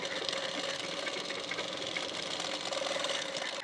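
A sewing machine stitches a blouse waistband strip, running in a steady, continuous close-up whirr with fast rhythmic needle chatter throughout.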